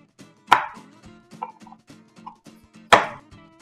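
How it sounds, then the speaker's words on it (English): A sturdy knife chops hard jaggery on a cutting board: two loud, sharp cracking blows with quieter knocks and taps between them, close by and with no one talking. "Get a cutting board and a sturdy knife."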